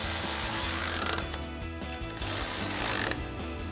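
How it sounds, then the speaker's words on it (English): Ratchet with a 16mm socket tightening grille guard bolts on a 2014-2018 Silverado 1500, giving a steady, close run of metallic clicking and grinding mechanism noise that carries on without pause. "we have our ratchet with a 16mm socket and a 16mm wrench to hold the head"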